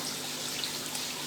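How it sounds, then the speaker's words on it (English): Water is siphoned from a koi fish tank into a box, a steady, close hiss and trickle of flowing water that runs continuously with no break. "I'm siphoning off some of the water into the box"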